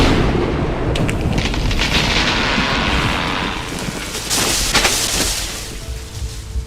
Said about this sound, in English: lightning struck a nearby tree